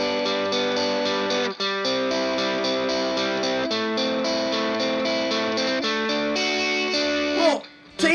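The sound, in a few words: electric guitar through a Rat distortion pedal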